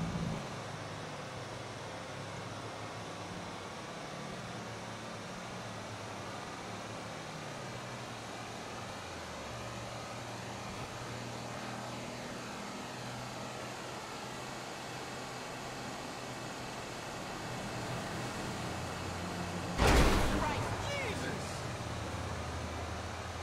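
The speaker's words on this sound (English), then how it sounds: "those double-bladed helicopters" A tandem-rotor, twin-bladed helicopter flies in Grand Theft Auto V, giving a steady, dense rotor-and-engine drone that holds level throughout. One brief louder burst cuts in near the end.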